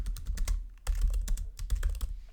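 Rapid clatter of keystrokes on a computer keyboard as a name is typed, close and fairly loud, in quick uneven bursts with brief pauses between them and no voices.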